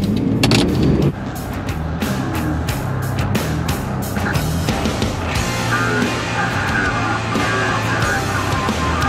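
A 4WD in first low range, towing a trailer, pushes through deep water, its loud engine drone and rumble continuous beneath a steady wash of splashing and rushing water, up close.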